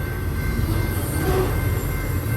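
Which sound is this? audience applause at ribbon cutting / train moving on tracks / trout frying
train moving on tracks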